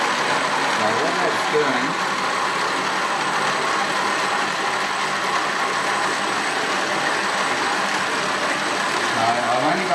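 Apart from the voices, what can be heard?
motor running driving a CVT test rig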